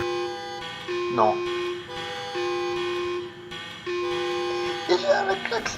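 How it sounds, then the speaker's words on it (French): Synthetic car horn tones honking repeatedly in a game, sustained steady blasts with brief gaps, loud and close, with a voice talking over them near the end. "Il est en train de klaxonner."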